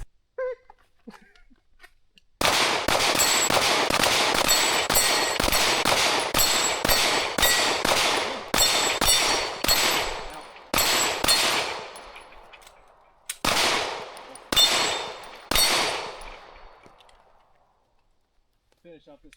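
A Canik Prime handgun fires at a shooting range in fast strings of sharp, loud shots, with short gaps between groups and a quieter tail at the end.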